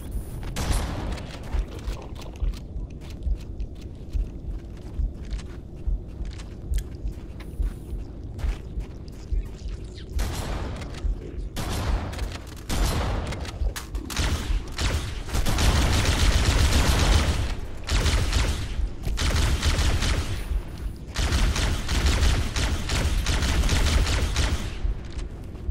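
Enemy shotgun fire in a Halo co-op match on Legendary difficulty, loud and sustained: dense overlapping blasts and booms roll through most of the stretch and build into a heavy barrage near the end.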